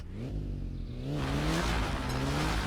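A car in My Summer Car drives on punctured tires, its engine droning and rising in pitch with a rough, rumbling low roar, close and continuous, with no talking.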